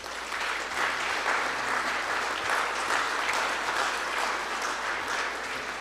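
Audience applause at an athletic hall of fame dinner honoring the food servers and the cheer and dance team; broad, even clapping from a crowd, steady and somewhat distant throughout.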